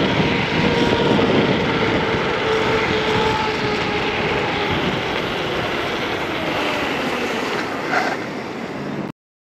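A RoadRunner RS5+ electric scooter accelerates hard from a standstill in dual-motor first speed, spinning its tires. A loud, steady broadband rush of motor and wind noise holds for about nine seconds, then cuts off abruptly.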